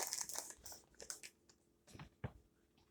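A plastic food bag holding shredded cheese is snipped with scissors in a home kitchen, giving faint, close crinkling and a few sharp cuts and rustles, without speech.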